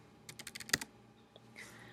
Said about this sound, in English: Once I type in the ID number